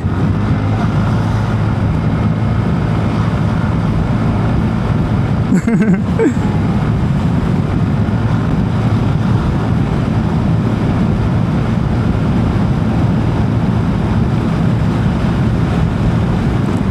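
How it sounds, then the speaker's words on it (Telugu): A TVS Ntorq 150 scooter accelerates on the road, its engine note buried under heavy wind rush with a brief burst of passing noise midway; no clear engine rise stands out. "థ్రాటిల్ ఓపెన్ చేయగానే మీకు వెహికల్ అయితే స్పీడ్గా మూవ్ అయిపోతుంది"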